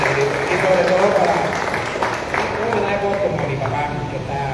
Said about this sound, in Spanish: Y yo le pido un aplauso para el Señor Jesús, que es el merecedor de todo